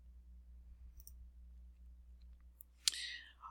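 A faint computer mouse click, a single brief tick late in an otherwise quiet stretch.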